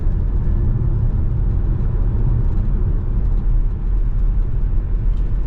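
A Vauxhall Grandland X rolls along a bumpy, uneven road, a steady low road rumble and engine drone heard from inside the cabin, continuous and fairly loud with no talk.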